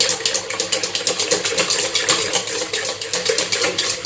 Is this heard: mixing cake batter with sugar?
yes